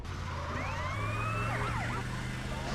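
Police siren in the video game GTA San Andreas wails in rising and falling sweeps over a steady car engine hum, fairly loud and uninterrupted.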